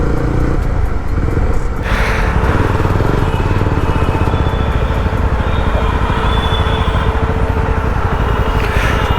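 Jawa 42 FJ 350 motorcycle riding through city streets, a steady loud engine drone with constant road and wind noise throughout, no speech.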